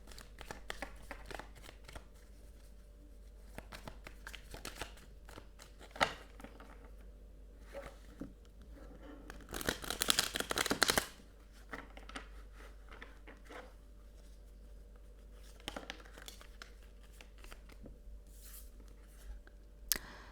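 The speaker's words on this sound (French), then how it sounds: "Je vais bien battre les cartes." Tarot cards are shuffled by hand in a quiet room, with soft riffling and patting in scattered bursts and a longer, louder shuffle midway.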